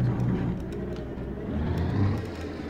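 A Marcopolo Viaggio G4 bus in a video game mod drives along with a steady, low engine rumble that swells slightly as it moves, heard alone with no talk.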